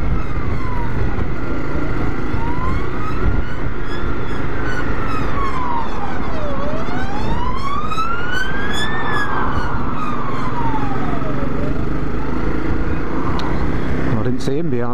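A police siren wails continuously, its pitch sweeping up and down in long slow cycles, loud and close over steady engine and road noise while touring the Lake District in Cumbria on a Honda CRF250L Rally.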